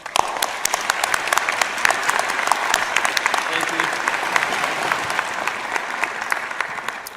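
A large audience at a University of British Columbia spring graduation ceremony in Vancouver gives sustained applause. Crisp individual claps stand out within a thick, even wash of clapping that continues for around seven seconds.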